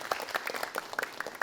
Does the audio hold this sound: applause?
yes